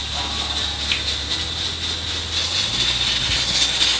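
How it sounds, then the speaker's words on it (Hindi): A pressure cooker cooking mutton for karahi hisses steam loudly and continuously, a close, steady sputtering jet with no talking. "प्रेशर कुकर लगा लिया हमने।"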